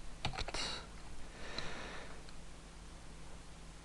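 A computer keyboard is typed on in a short burst of quick close clicks, followed by a few softer scattered keystrokes and then quiet.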